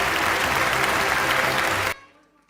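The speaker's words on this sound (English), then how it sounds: "let's give them a big, big round of applause for We Rock Communications Network" Dense crowd applause at a health and wellness marketing awards ceremony in Mumbai, loud and continuous, cutting off abruptly near the end to near silence.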